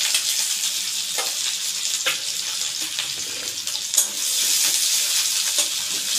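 One large chopped onion frying in hot oil in a pan: a bright, continuous close sizzle with a few soft utensil knocks. The hiss grows louder and fuller partway through.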